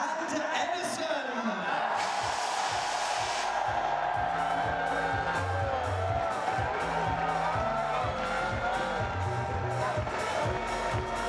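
A large outdoor crowd at the Manchester City Premier League title parade roars and cheers continuously, with a rising swell early on, under loud thumping music.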